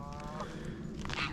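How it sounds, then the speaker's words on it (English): Canada geese at a country park lake give a brief burst of nasal honks, several overlapping calls heard faintly at a distance within a second or so. "Loads of geese, Canada geese,"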